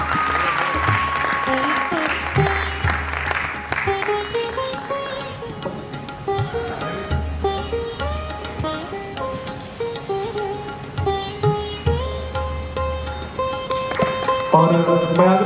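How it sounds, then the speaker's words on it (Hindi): Theatre audience applauding the whole team after a play, a continuous wash of clapping under loud music with sustained tones, steady throughout and rising toward the end. "एक बार जोरदार तालियां हो जाए पूरी टीम के लिए"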